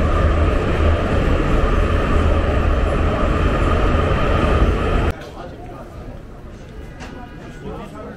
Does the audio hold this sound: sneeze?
no